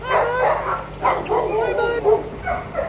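Dogs barking and yipping in the kennel rows of a humane society shelter, a steady run of overlapping barks and whimpers close by, with a person talking faintly underneath.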